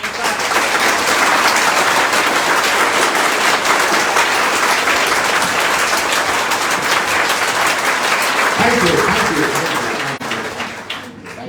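A crowd at a motivational speech in Prayagraj claps loudly and steadily for about ten seconds, then the applause tapers off.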